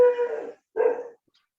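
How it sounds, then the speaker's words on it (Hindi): A dog barks twice in the background during an online maths class, two close, fairly loud barks separated by a short pause, with no talk over them. "कुत्ते की आवाज आ रही है।"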